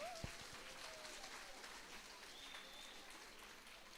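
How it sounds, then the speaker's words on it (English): Applause from the audience at a preschool annual day, a steady mid-level clatter of clapping that holds for a few seconds and slowly thins, with no voices over it. "Let's give them a big round of applause."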